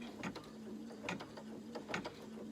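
A computerized embroidery machine stitching around the edge of a Santa Magic Key doorhanger, sewing the back on, with a steady mechanical hum and rhythmic clicking needle strokes repeating about every 0.8 seconds.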